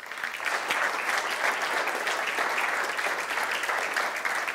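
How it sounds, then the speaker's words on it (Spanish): Audience in a conference auditorium applauding a guest speaker at an anniversary lecture series, a dense even wash of clapping lasting several seconds at moderate level. "Imos lle dar un aplauso tamén."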